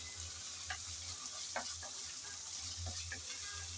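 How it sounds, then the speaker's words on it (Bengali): Onions and ginger-garlic paste fry in a pan with a soft, steady sizzle, while a spoon scrapes and stirs a few times at close range; a low hum runs underneath. "আদা রসুন বাটা দিয়ে পেঁয়াজের সাথে আবারও হালকা করে নাড়িয়ে নেব যাতে কাঁচা গন্ধটা চলে যায়"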